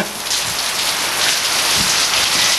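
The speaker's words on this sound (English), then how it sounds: "as you can see, it's pouring down rain" Pouring rain at a campground, a steady, loud, hissing downpour drumming on surfaces without a break, close and unbroken throughout.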